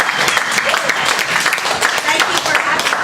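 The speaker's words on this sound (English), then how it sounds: "I'd like to give a huge round of applause for both of them." A crowd at a rodeo event applauds steadily, with dense, loud clapping and cheering that continues without a break.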